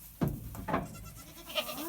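Nigerian dwarf goats bleat inside a barn, two loud close cries followed by a fainter, higher call.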